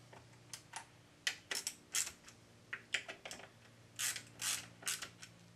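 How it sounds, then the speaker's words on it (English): Torque wrench tightening bolts back down on an air compressor, giving a series of sharp ratcheting clicks in short irregular bursts over a steady low machine hum, fairly close, with no talk. "Now we will torque them back down."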